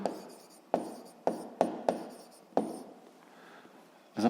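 Pen or chalk strokes scrape as a physics equation about oak and glass volumes is written by hand, several short distinct scratching bursts in quick succession, close and clear with pauses between strokes, no voices.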